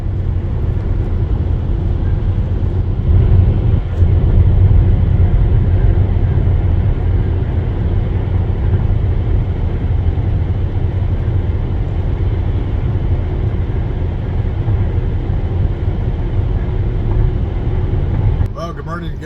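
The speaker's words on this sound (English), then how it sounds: "We are driving back to New York. We're currently in Iowa on the highway" A car rolls along a highway in Iowa, its steady broadband road and engine rumble filling the whole stretch at an even, fairly loud level with no clear breaks.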